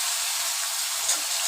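Pabda fish sizzling as it fries in oil in a pan, a steady close hiss and crackle that continues without a break through the whole moment, with no talking over it.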